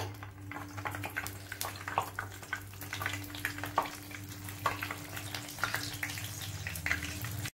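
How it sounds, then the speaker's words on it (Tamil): Sabudana vadai patties frying in a shallow layer of oil in a pan, a steady low bubbling sizzle with scattered crackles and occasional scraping taps, close and continuous with no talking. "இப்ப நம்ம ஒவ்வொன்னா எண்ணெயில போட்டு நல்லா ஃப்ரை பண்ணிக்கலாம்"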